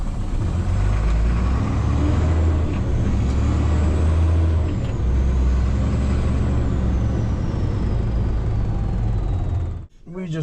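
A diesel dump truck rumbles loudly and continuously close by, engine drone steady throughout, before a brief sharp hiss and drop near the end like air brakes releasing.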